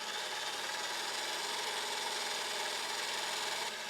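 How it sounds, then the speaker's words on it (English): Electric whisk beating egg whites in a mixing bowl, a continuous bright whirring buzz at steady level for the whole stretch, with no talking. "You may like to use an electric whisk if you have one."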